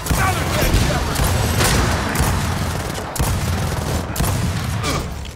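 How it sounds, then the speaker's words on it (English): Rapid, dense Gnasher shotgun blasts mixed with ongoing combat gunfire in the game Gears of War 4, a loud continuous barrage with sharp repeated reports throughout. "I must have pumped all the Nasher's ammo into and still didn't do anything."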